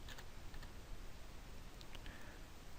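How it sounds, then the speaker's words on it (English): Keys on a computer keyboard click faintly as a keyword is typed, a few short soft taps over a quiet room hiss, with no talking. "and then type in a keyword, and for today we'll use poverty."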